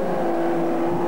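Race cars pull away at the start of a 1985 speedway 100-lap race, a loud sustained engine drone with a steady tonal whine filling the short moment, no voices.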